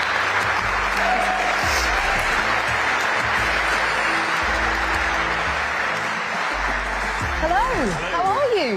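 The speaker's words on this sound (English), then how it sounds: "We get a cheer for George's birthday." An audience at a Mercedes AMG Petronas Formula 1 team car launch event applauds and cheers continuously, a dense steady wash of clapping from a large crowd, with a voice speaking over it near the end.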